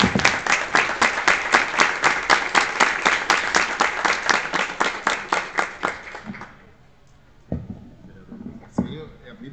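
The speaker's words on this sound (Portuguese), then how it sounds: "eu pediria que todos nós recebêssemos ela de pé com a salva de palmas." An audience claps in rhythmic unison at a lecture gathering, a loud steady beat of synchronized applause that stops abruptly, followed by a quiet room with a few small sounds.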